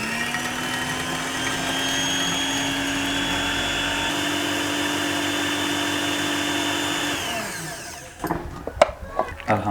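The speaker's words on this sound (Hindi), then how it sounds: "और अच्छे से ब्लेंड कर लेंगे।" An electric blender churns raw mango sharbat with a loud, steady motor whine, then winds down and stops, leaving a few clunks and knocks from the jar.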